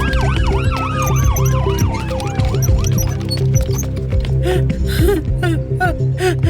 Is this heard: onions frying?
no